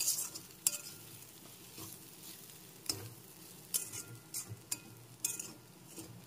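Spatula stirring fish masala filling for potol dolma in a pan, with a soft sizzle beneath scattered scrapes and taps on the metal; close but fairly quiet, no one speaking.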